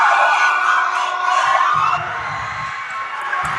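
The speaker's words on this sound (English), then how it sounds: "crowd is loud." Loud crowd noise at a high school basketball game, cheering and shouting steadily throughout with a slight dip partway, close and enveloping, with no clear speech on top.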